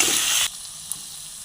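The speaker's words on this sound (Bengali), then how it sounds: "আমরা মশলাটা দিয়ে দিয়েছি, এবার একটু কষিয়ে নেব।" Spice paste with chili and mustard paste frying in a pan: a dense, bright sizzle that cuts down abruptly to a softer, steady hiss, with one small pop.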